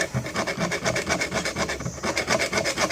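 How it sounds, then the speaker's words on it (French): A scraper is pushed with bending pressure across a PVC window frame to scrape its decor film, making fast rhythmic rasping strokes, about five per second, loud and close with no talk. "vous devez vraiment exercer et plier légèrement le racloir afin de privilégier cette zone-ci"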